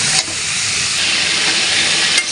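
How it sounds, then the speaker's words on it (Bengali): Desi chicken sautéing hard with spices in a pan, a loud, steady steamy hiss that holds evenly from start to end with no talk. "আমি কিন্তু মাংসটাকে খুব ভালো করে কষায় নিচ্ছি"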